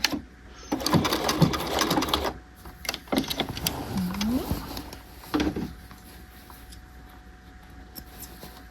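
A sewing machine lock stitches canvas on a half-scale tailored jacket lapel, giving short intermittent whirring bursts and clicks, fairly faint, that fade to quiet near the end.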